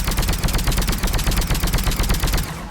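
A rapid-firing weapon in Mass Effect 3 rattles off a loud, continuous burst of closely spaced shots, close up and alone, stopping abruptly at the end.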